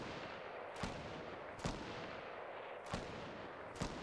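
Gunfire traded between players in the video game Fortnite, four sharp, distant shots spaced roughly a second apart over a low, steady background rumble.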